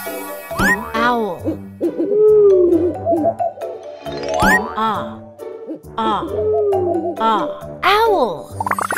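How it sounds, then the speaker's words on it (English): Repeated owl-like hoots in bursts with falling, wavering pitch sound loud and close, likely produced by a voice, with little else around them. "Owl."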